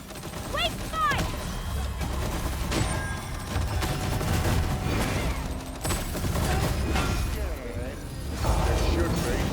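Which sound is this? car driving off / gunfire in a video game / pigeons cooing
gunfire in a video game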